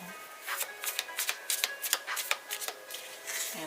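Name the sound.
shuffling tarot cards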